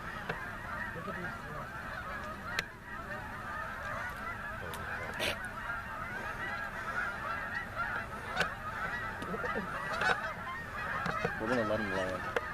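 A flock of geese honks continuously during a Pennsylvania goose hunt, a dense chorus of overlapping calls from birds at a middle distance, with a few sharp clicks and faint voices now and then.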